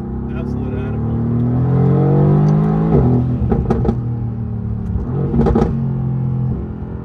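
A Mercedes-AMG GT R sports car revs and accelerates hard, its engine note rising in pitch, dropping at a gear change around the midpoint, then climbing again, loud and close with a roaring rumble throughout.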